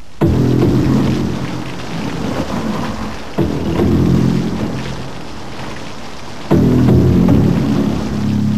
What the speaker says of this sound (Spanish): Tenemos que detener la lluvia.